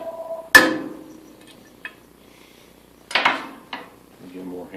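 A 16-ounce hammer strikes a dowel pin on an Atlas lathe Quick Change 42 gearbox under restoration, giving sharp metallic knocks: one loud hit, a faint tap, then a cluster of closer blows separated by quiet gaps.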